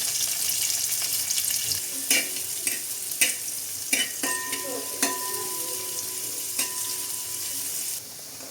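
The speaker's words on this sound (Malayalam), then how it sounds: "നമ്മൾ അരിഞ്ഞു വെച്ചിരിക്കുന്ന ചെറുതായി അരിഞ്ഞിരിക്കുന്ന സവാള ചേർത്ത് കൊടുക്കാം" Chopped onions and whole spices fry in a pan for ghee rice, giving a steady hiss with scattered crackles and a few sharp clinks of stirring against the pan, up close and without voices.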